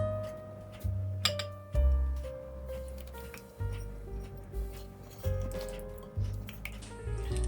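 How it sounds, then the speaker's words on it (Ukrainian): Apple cider sauce poured into a bowl of dry ingredients for donuts, heard as irregular wet splats, drips and light clinks against the bowl, close and fairly quiet with a few louder thumps. "Далі в миску, де сухі інгредієнти, вливаю наш соус."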